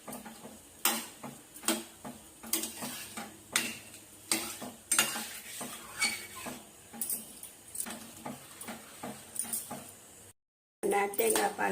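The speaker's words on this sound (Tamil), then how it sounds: "அடியில் உட்காராமல் நல்லா கையை வச்சு கிண்டிகிட்டே இருக்கணும்" Coconut milk payasam, Kerala style, is stirred steadily in a pot, a rhythmic series of scraping strokes against the bottom with light bubbling, while someone talks over it.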